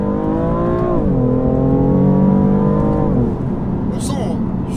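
BMW M4 Competition engine pulling hard through the gears in its sportiest drive mode, a rising tone that drops at each upshift, near and loud, with someone talking over it.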